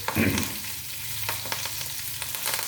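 Curry leaves drop into hot tempering oil for a drumstick-leaf chutney, giving a sharp burst of sizzling that settles into a steady close frying crackle.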